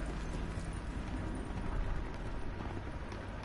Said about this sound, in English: I hear footsteps, is that you?